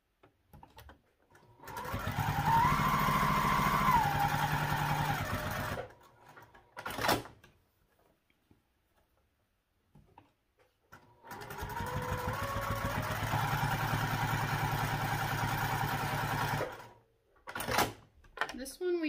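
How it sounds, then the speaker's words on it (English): A sewing machine stitches a small key clip piece for a backpack in two long runs, each a loud, close, steady whirring hum that stops with a few clicks. A quiet gap separates the runs, and brief speech is heard. "We'll do the same thing, sewing down each side."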